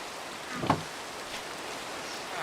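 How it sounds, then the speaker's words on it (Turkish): Rain in Minecraft falls as a soft, faint, steady hiss throughout, with one slightly louder patter near the start and no voices. "arkadaşlar bu arada ben yağmurun dinmesini bekliyorum."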